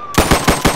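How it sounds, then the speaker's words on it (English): Rapid automatic gunfire in a Roblox roleplay game, four loud evenly spaced shots in quick succession. "Gunshots! Run! Run!"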